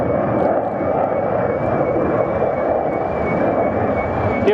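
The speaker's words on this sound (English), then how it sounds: "Yes, a very sporting takeoff there, Ben." A SAAB Viggen AJS37, a historic Swedish jet, takes off at the Waddington Airshow with a loud, steady, broad engine roar that holds throughout without a break.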